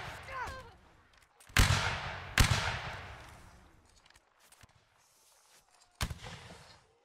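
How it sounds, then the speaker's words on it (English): Musket volleys from Napoleonic line infantry in a multiplayer battle game: several sharp, loud cracks spaced seconds apart, each fading into a rolling echo, with people talking in the early part. "fire at will"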